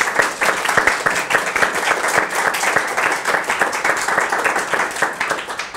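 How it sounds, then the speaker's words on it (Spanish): Audience applause at an academic lecture on political economy, welcoming the guest speaker: dense, steady clapping from many hands throughout, fairly loud and close, with no talk over it. "pido un caluroso aplauso"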